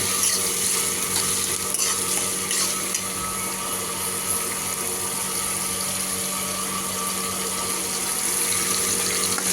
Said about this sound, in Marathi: कढीपत्ता टाकलाय टोमॅटो टाकलाय थोडीशी साखर टाकली टेस्ट देण्यासाठी चांगलं परतून घ्यायचं छानपैकी